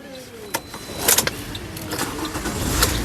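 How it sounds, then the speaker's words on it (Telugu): A 2014 Toyota Corolla Altis G diesel cranks and fires on a single turn of the key, followed by a short burst of revving, with someone talking over it. "ఒకసారి ఈ కారు సింగిల్ సెల్ఫ్లో స్టార్ట్ అవుతుందా లేదా అన్నది చూపిస్తానండి"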